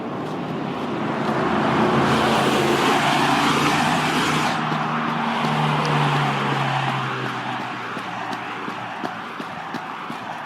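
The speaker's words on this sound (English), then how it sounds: "I'm missing my announcements because of the car noise." Steady car and road traffic noise rolls past outdoors on a hilly running route, swelling and fading as vehicles pass, with a continuous broad rumble and faint footfalls.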